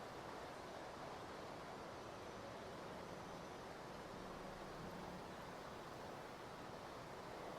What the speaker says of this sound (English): I wanted to make it seem like the waterfall is creating the big lagoon